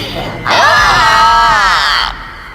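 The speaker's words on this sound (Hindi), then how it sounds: "उनके कंधों पर रखा ताबूत खुल गया और उसके खुलते ही संपत और कप्ता की चीख पूरे गांव के लोगों ने सुनी," A loud, sustained scream from a horror story, rising abruptly after a short quiet lead-in and holding strong for about a second and a half before cutting off, with no speech around it.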